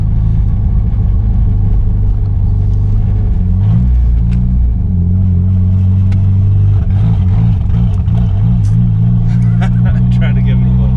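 A 30-year-old Mitsubishi Starion turbo project car with a throttle fault idles with a loud, steady low rumble, rising briefly in pitch when fuel is given and then dropping back as it stumbles and cuts out.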